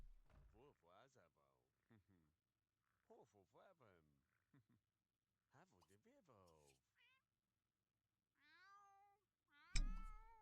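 A cat in The Sims 2 gives a couple of rising, drawn-out meows near the end, after stretches of a person talking nearby.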